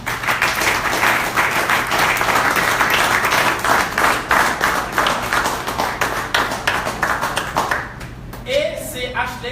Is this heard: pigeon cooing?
no